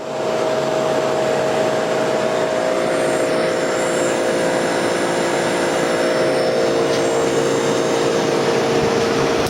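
A 1979 Emerson Quiet Kool window air conditioner runs without a break, its steady fan whoosh and motor hum close and loud for the whole stretch, with no talking over it.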